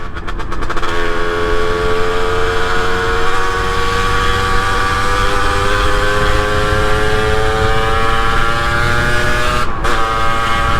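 A 2023 Rieju MRT50 Trophy SM Pro supermoto being ridden, its small 50cc engine droning loud and steady at high revs with wind noise, pitch climbing slowly through the gear, heard from on board.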